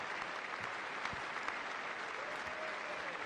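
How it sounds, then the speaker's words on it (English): Sustained applause from a large audience at the State of the Union address fills the room, a steady even roar of clapping with no pauses. "you even got Alyssa Slotskin up there clapping."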